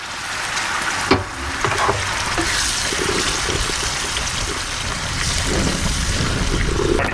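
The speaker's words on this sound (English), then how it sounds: "Start cooking up the sauce. Some olive oil, chopped up garlic. Alright, just put in the passata." A sauce of olive oil, chopped garlic and passata cooking in a pan, heard as a constant wet sizzle and bubbling with a sharp knock near the start, fairly loud and close throughout.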